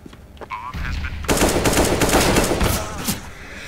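Rapid automatic gunfire in the video game CS GO, a dense, loud, continuous burst lasting a couple of seconds, with a faint voice early on.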